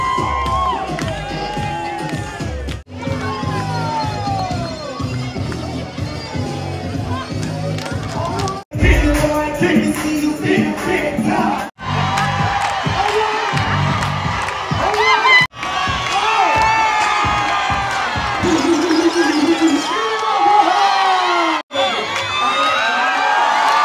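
A large crowd cheers, whoops and shouts continuously on the Lido deck of a cruise ship during a sail-away party. The roar is dense and loud, with excited voices and children's shouts throughout and a few brief dips.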